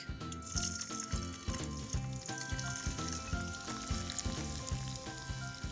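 Oil deep-frying karela (bitter gourd) sizzles and crackles steadily at a low level, with a faint repeating rhythmic tone underneath.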